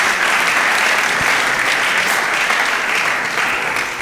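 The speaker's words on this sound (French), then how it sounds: "Applaudissez pour mon cousin" A crowd delivers sustained, even applause, a thick wash of clapping hands that holds at a constant loudness from start to finish with no voices breaking through.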